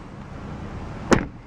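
Door of a 2011 BMW 535i M Sport shuts with a single short, solid thud over a low background hum.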